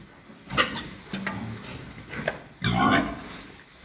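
Several short, rough grunts and snorts from pigs close by, coming in irregular bursts with a louder cluster near the end.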